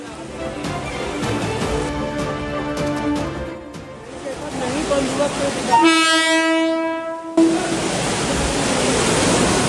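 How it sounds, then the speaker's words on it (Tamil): A suburban train crawls along flooded tracks through standing rainwater, rumbling with a steady wash of noise, and a loud horn sounds for a couple of seconds midway. "தண்டவாளத்தில் தேங்கியுள்ள மழைநீரில் ஊர்ந்து செல்லும் புறநகர் ரயில்கள்"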